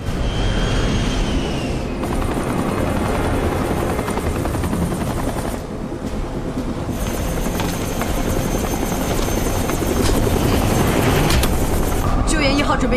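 A military rescue helicopter runs loud and continuous as it takes off from an airport, its rotor roar steady throughout, with sharp bursts and voices over it in places.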